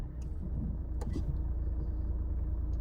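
A manual-transmission car's engine runs at low revs during clutch and throttle practice, a steady close rumble with a couple of brief clicks near the start.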